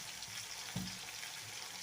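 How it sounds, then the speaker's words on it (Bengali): Dried fish and fresh fish frying in a pan give a faint, steady sizzle, with a few soft clinks and stirring bumps over it and no one talking. "একটাতে শুটকি আর একটাতে মাছ ভাজি দিয়ে দিচ্ছি।"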